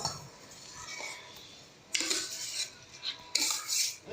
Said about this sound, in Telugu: ఇప్పుడు రైస్ వేసేస్తున్నాను.